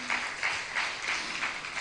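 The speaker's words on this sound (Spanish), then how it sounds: "Vamos a dar un aplauso a ese Dios poderoso" Congregation applause at a church meeting: a steady wash of hand clapping with soft pulses roughly three times a second, moderately distant and filling the room, with no clear talking over it.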